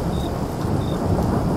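Heavy rain pours with a deep rolling rumble of thunder in a horror cartoon scene beside a pond, a dense and continuous wash of sound with no voices.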